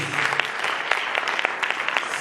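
A church congregation claps during an Easter Sunday service, a dense, steady wash of many hands with crisp individual claps popping out, close and lively throughout.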